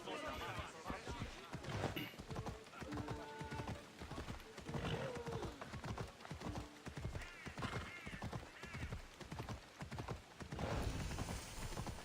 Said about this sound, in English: Why do you run from me, horse?